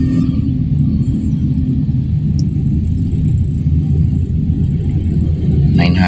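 A Toyota Corolla with a 2E engine idles just after a cold start: a loud, steady, close low rumble that holds unchanged throughout, with only a faint click near the end.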